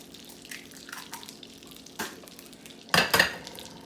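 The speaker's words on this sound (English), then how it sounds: "we got our skillet getting good and hot. So we are going to put our egg in this recipe" Eggs hit a hot skillet and start to sizzle, with faint frying under scattered clinks of a utensil against the pan and a couple of sharp, loud scraping bursts near the end.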